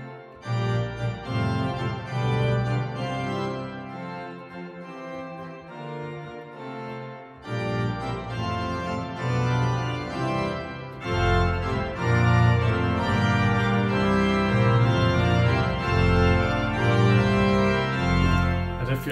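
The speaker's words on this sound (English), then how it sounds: "So you have a very silent manual, a middle manual," Sustained pipe organ chords from a Bückeburg organ sample set, shifting between soft, middle and loud manuals, the full sound swelling richer toward the end, with no speech.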